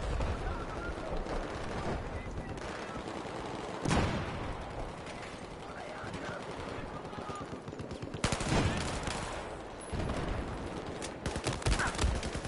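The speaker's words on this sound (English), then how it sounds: "they're shooting at me now" Sustained automatic gunfire in a Battlefield 4 multiplayer firefight, dense rattling bursts running nearly nonstop with sharper loud shots near four and eight seconds, under occasional voice chat.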